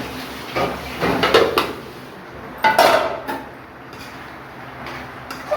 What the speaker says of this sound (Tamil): இந்த இட்லி சட்டி மூடி எடுத்து மூடுப்பா